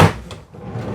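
A utility drawer or cupboard in the kitchen of a brand new Swift Moselle caravan is opened, giving one short close wooden knock and slide at the start followed by quiet room tone.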